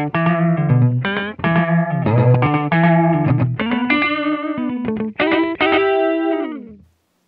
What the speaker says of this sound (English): that's something we can create with the invert mode to have the echo come back out of phase from the dry signal.